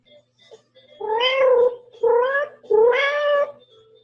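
A cat meows three times in close succession, clear and nearby, each call a drawn-out tonal cry against a quiet background.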